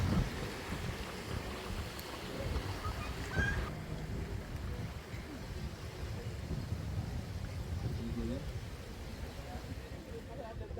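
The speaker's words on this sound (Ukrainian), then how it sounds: "Вітер, правда." Steady wind blows across an outdoor spot, a broad low rumble buffeting the microphone throughout, with faint voices in the background.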